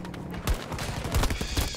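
Gunfire in the video game Battlefield 2042, a quick series of sharp shots close by, with some bursts layered over other battle noise.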